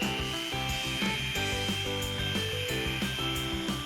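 Electric file grinding a surface during a crafting project, a harsh whirring buzz with a repeated stroke rhythm of rubbing passes, close and steady with no voices.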